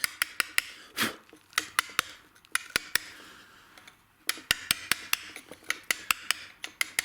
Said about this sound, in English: I'm going round the outside with the chisel, just working my way down.